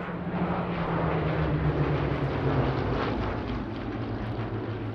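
A Hawker Hurricane fighter plane flies past at the Sywell airshow, its piston engine a loud, sustained droning roar with a low steady hum and no talk over it.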